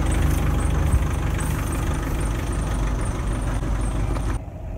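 A car engine runs steadily while driving down from Kuranda toward Wangetti Beach, a continuous low rumble heard from inside the vehicle that drops away abruptly near the end.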